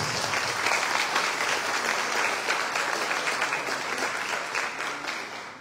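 An audience at a university academic-year inauguration ceremony in Chilca claps loudly and steadily, a dense, even wash of applause lasting the whole stretch and heard alone.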